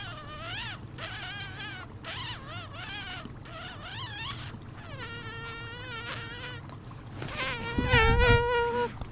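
A voice imitates a mosquito's whining buzz, a series of rising and falling wavering tones that sweep up and down repeatedly over several seconds, followed by a louder, rougher burst near the end over steady background noise.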